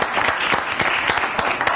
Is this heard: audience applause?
yes